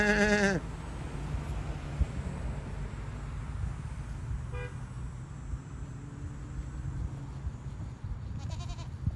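Goats on a farm give a sharp, harmonic bleat at the start, then fainter bleats follow further off over a constant low rumble of background noise, with no one talking.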